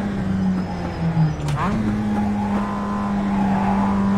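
Race car engine in the iRacing sim, a steady buzzing drone that dips and then climbs again with a brief gear-change blip, heard close and continuous.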